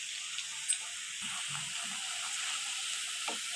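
Cauliflower pieces frying in hot oil for gobi manchurian give a soft, steady sizzle and hiss with a few faint knocks, fairly quiet and with no one speaking.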